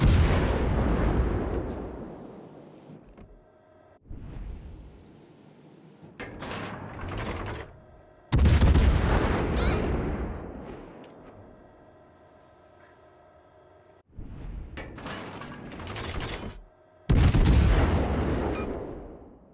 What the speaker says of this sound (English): Big meaty hits from these guns on the Montana, absolutely soaring our damage